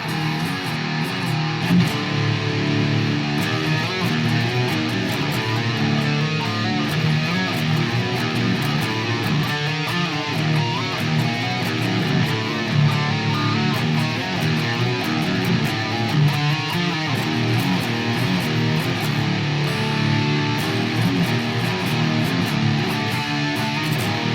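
Two distorted electric guitars play a riff together, loud and sustained, with a repeating driving pattern and no voices.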